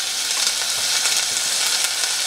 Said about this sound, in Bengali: সমস্ত জিনিসকে একটু বাটারের সঙ্গে ভালো করে ফ্রাই করে নেব